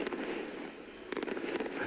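A consumer firework cake fires a rapid series of crackling bursts and sharp pops, faint and somewhat distant, over a steady hiss, with clusters of cracks bunching in the second half.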